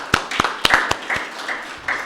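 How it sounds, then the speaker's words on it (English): A few scattered handclaps from an audience thanking the LA County fire department after the Tick Fire, sharp and close, a handful of separate claps fading into quieter sound. "So I say give a round of applause for the fire department first and foremost."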